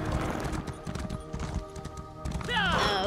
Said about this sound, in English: Oh god, my horse is so slow.